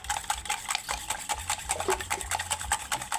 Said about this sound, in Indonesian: Setelah itu kita aduk-aduk dulu sedikit